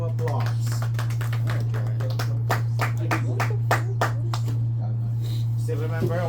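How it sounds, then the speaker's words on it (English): Classroom applause during a calculus lesson, a burst of scattered hand claps from a group of students that thins out over several seconds, with a steady electrical hum beneath. "Shall we give Chris again a round of applause"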